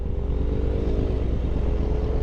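A small scooter rides past in traffic, its engine a steady low drone under a larger motorcycle's idle rumble, continuous and fairly close with no talking.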